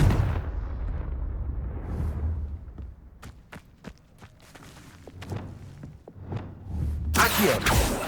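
A fiery Confringo spell blasts in the video game Hogwarts Legacy, a booming explosion followed by a series of sharp impacts and crackling bursts, with a loud roaring blast near the end.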